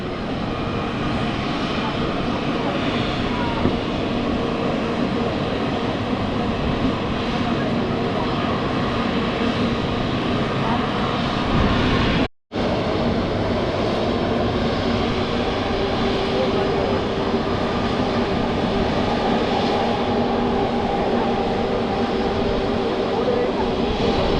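An airplane takes off at Chhatrapati Shivaji Maharaj International Airport, its engine roar loud, broad and steady for the whole stretch, broken only by one brief dropout midway.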